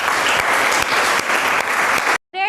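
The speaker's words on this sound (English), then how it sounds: "So give a huge round of applause for Nikita." Audience at a school event breaks into sustained, loud applause, a dense wash of clapping from many hands that runs steadily for about two seconds before cutting off abruptly.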